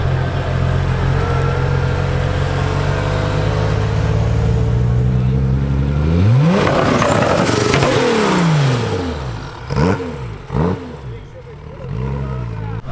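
A loud RWB Porsche fitted with a two-step anti-lag system idles with a deep, chugging exhaust, then revs up hard and drops away in a roaring sweep. Sharp bangs and pops follow from close by, with voices faintly in the background.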